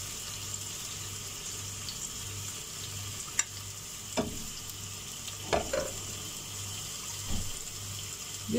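Cinnamon, cloves, black pepper and cardamom crackle in hot oil while cooking mutton yakhni pulao: a steady low sizzle with scattered sharp pops and a few clinks of stirring, fairly quiet and with no voices.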